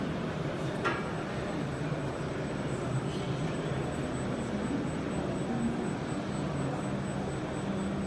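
Motor test rig with an added unbalance weight, running at a higher speed of 500 rpm: a steady, loud mechanical drone and rumble that holds evenly throughout, with a faint high whine above it.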